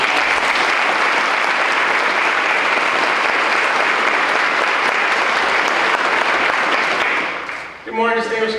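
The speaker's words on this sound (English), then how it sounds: "Please give them a round of applause." An audience at a veterans recognition ceremony applauds loudly and steadily for about seven seconds, the clapping dense and sustained before fading into a speaking voice.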